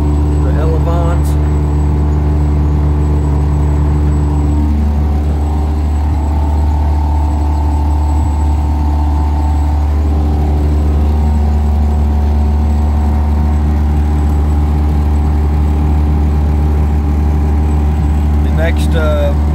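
A rotary-engined Dyke Delta aircraft runs at a steady, droning idle, close and loud, its even hum holding throughout without pause.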